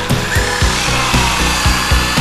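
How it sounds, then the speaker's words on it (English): A HUINA 1593 RC excavator's breaker hammer attachment chips away in a steady rhythm of sharp, repeated knocks about twice a second, over a constant whining motor hum, close and loud. "we're gonna go try out this chipping hammer now. Or the breaker is what I think it's actually called."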